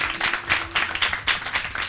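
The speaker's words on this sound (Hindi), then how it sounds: "मेरी ऑडियंस के लिए एक बार आप अपने लिए बहुत सारी तालियां।" A studio audience at a talk show claps loudly and continuously, a close burst of many hands that swells in waves for a couple of seconds.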